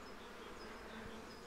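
Honeybees inside a Bienenkiste hive buzz in a soft, continuous hum during a spring inspection. The sound is quiet and steady, and no one speaks.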